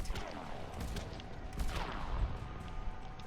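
Gunfire rattles in the Mass Effect sci-fi shooter, several quick sharp shots in irregular bursts over a noisy battle backdrop, moderately distant and without talk.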